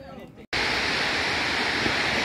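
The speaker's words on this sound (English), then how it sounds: "You can hear the water coming down." Water rushing down at the back of the Mae Suai Dam reservoir, a loud, steady broadband roar that sets in abruptly after a brief dip and carries on without a break.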